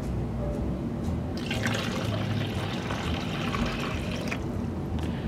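Mead must of honey and water pours steadily into a fermenter, a continuous liquid splash and trickle lasting the whole stretch, close and moderately loud with low background rumble.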